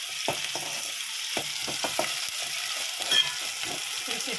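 Ginger-garlic paste is stirred in a frying pan for an egg curry: a soft oil sizzle hisses throughout while a spoon scrapes and taps the pan in irregular strokes, close up and with no talking.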